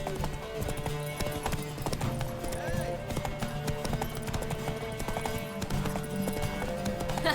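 Hooves of Roach, a horse in The Witcher 3, pound in a fast, continuous galloping rhythm, loud and close, mixed with game music and occasional voices.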